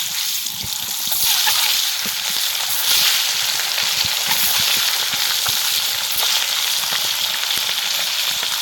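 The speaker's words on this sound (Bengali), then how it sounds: "এবার ভালো করে একদম লাল লাল করে ডিমগুলো ভেজে নেবো" Jungle fowl eggs frying in hot salted oil, a continuous loud close sizzle with faint scattered pops and light stirring throughout, no talk.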